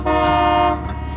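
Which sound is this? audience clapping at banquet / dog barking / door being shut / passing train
passing train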